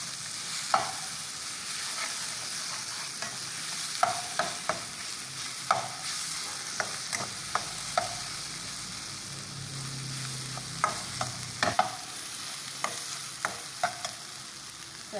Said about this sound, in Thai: ผัดให้มะเขือเทศสุกก่อนนะคะ